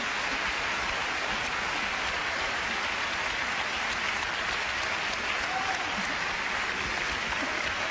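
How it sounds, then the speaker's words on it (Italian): A studio audience applauds composer and maestro Giovanni Allevi as he takes the stage of a Bari television show, a dense, steady wash of many hands clapping at an even level with no pauses. "L'applauso del pubblico."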